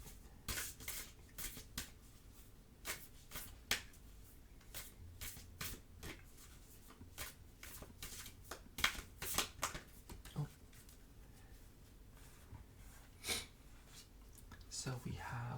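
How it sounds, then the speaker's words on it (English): Moonology oracle cards are shuffled close up in a quiet ASMR tarot setting, a run of crisp, rapid riffling bursts and soft slaps in an uneven rhythm. "I'm going to pull a Moonology card"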